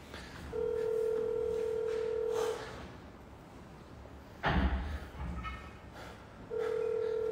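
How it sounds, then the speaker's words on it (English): Telephone dialing out on a call, steady tones switching on and off across the clip, broken midway by a short thump, quiet overall, with no speech. "We're going to hear the phone really quick."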